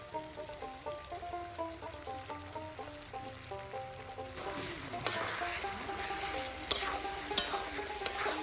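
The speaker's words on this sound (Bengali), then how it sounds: "এরপর আদা, রসুন আর কাঁচা লঙ্কার পেস্টটা দিয়ে মশলাগুলোকে আরও কিছুক্ষণ কষাতে হবে।" Spices with ginger, garlic and green chilli paste fry and sizzle in a pan while being stirred, a steady close sizzle with a few sharp scraping clicks toward the end.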